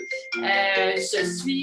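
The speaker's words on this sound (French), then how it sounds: "c'est mon téléphone qui sonne." A mobile phone rings with a bright, melodic ringtone of sustained harmonic tones, fairly loud and close, with a brief spoken phrase at the start.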